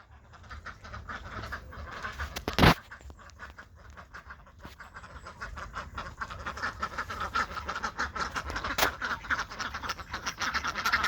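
Ducks kept in a pen quack and chatter over several seconds, close by and fairly busy, with one sharp louder knock near the start and steady background noise throughout.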